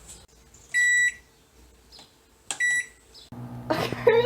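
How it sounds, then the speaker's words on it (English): A kitchen microwave oven gives two short, high electronic beeps, then starts running with a low, steady hum and some rattling. "Into my microwave."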